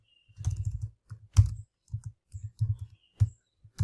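Computer keyboard typing a database command, a sequence of crisp irregular key clicks and clustered taps with short gaps, close and clear with no talking.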